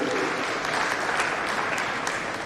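A crowd gives sustained applause at a public government event during a Lieutenant Governor's visit to Hira Nagar, a dense and steady patter of clapping heard from a moderate distance.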